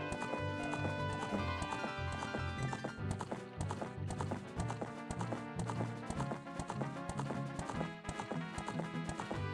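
Rhythmic clip-clop of horse hooves in the video game Zelda: Ocarina of Time, a steady trotting gait under a bright game music backdrop, fairly faint overall.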